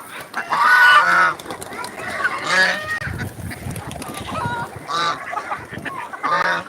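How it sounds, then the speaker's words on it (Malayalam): Ducks, pigeons and chickens being fed grain: loud, close honking and quacking calls in repeated bursts, with softer fowl noises between them. "പ്രാവ് കോഴി താറാവ്"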